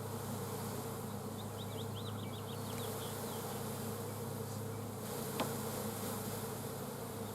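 Honey bees swarm and buzz just after a package install, a steady droning hum near the microphone that runs the whole time, with a faint higher whine partway through and no talking.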